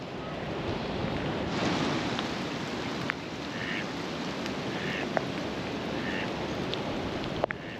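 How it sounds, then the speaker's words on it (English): Hailstones pelt down outdoors beside a carp lake in spring, a steady dense patter like heavy rain on water and surroundings, with a few sharper ticks of ice striking nearby surfaces. "Just sitting here out in hail."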